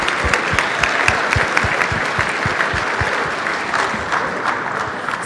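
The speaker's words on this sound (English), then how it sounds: "So please join me in giving them all a well-deserved round of applause." Gala audience giving a round of applause for sponsors, dense and steady clapping from a large crowd filling the room, sustained at even loudness throughout with no talk over it.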